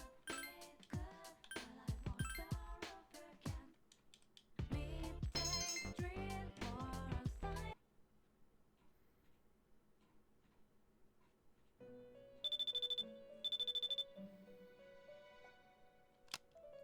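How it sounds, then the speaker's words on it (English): A cell phone rings in a video game, heard as short bursts of a bright electronic tone that repeat twice, clear and alone after a stretch of chiming game music and a quiet pause. "Your cell phone rang."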